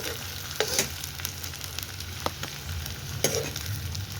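Onion frying in a kadhai for a spring onion dish, a continuous soft sizzle with a few sharp metallic scrapes and taps of a spatula stirring against the pan.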